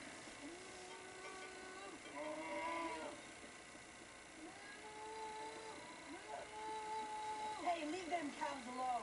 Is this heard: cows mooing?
yes